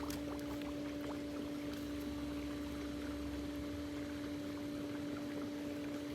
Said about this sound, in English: So now it's filling up with water and it's going to lower itself into the pool.